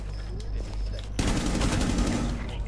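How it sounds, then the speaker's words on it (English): Video game gunfire bursts into a loud, dense fusillade of rapid shots that keeps going after a quieter humming start. "they were shooting at me and I couldn't shoot back at them"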